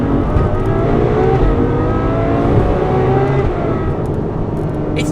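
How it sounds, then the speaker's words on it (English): A Ferrari 812 Superfast V12 roars loud and close, its pitch sweeping up and down through a downshift with rapid revs. The engine sound is continuous and fills the whole clip without speech. "Just listen to the response of the downshift on this thing."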